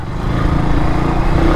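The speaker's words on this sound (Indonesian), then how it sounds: "Ini suara knalpot bawaan, nggak perlu dibobok." Stock exhaust of a Kawasaki W175TR motorcycle on a ride, giving a steady, close, low rumbling drone that holds an even level throughout.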